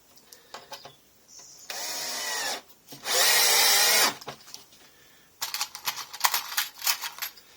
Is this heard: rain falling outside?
no